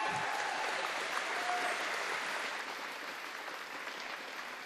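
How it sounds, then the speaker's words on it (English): A crowd at a national open swimming championship applauds a swimmer, steady broadband clapping that holds evenly for several seconds and tapers slightly toward the end, heard at a distance in a large venue. "let's have a massive round of applause for Hannah Miley"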